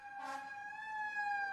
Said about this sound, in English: We have ambulances, we have fire trucks.